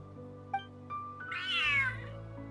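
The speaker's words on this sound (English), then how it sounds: "Hey cat, why you so angry?" An angry cat meows in a video game story quest, a single drawn-out, rising and falling cry rising out of soft game music and ambience, preceded by a couple of short chirps.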